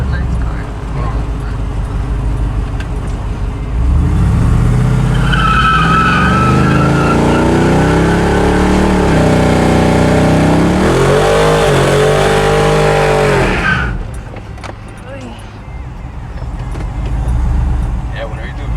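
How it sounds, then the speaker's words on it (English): A truck doing a burnout, its engine revving hard in rising and falling sweeps with tire skid noise for several seconds before cutting off sharply, loud and close, with people talking around it. "whenever you do a good burnout like that"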